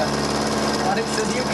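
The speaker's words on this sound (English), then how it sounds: "it's rattling on the top of the mill here" A running mill rattles on top in a steady, loud, broadband mechanical drone with constant grinding noise.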